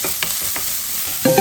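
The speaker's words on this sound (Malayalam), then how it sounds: "സവോള ഇട്ട് കൊടുക്കാം കേട്ടോ. ഒപ്പം പച്ചമുളകും കൂടി ഇട്ട് കൊടുക്കാം. നല്ലപോലെ വഴറ്റിയെടുക്കാം." Onions and green chillies sautéing in a pan for a mushroom stir-fry, a steady broadband sizzle with a few soft stirring scrapes and a brief clink near the end.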